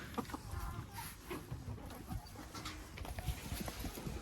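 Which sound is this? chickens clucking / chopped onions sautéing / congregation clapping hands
chickens clucking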